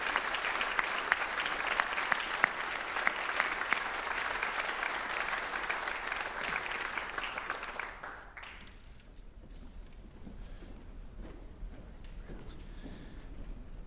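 Crowd applause at a high school awards night for student athletes, steady dense clapping that fades around eight seconds into scattered claps and room murmur.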